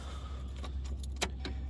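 Ignition key on a 2004 Chevy Cavalier turned off, a few faint metallic key jingles and clicks over a low steady hum.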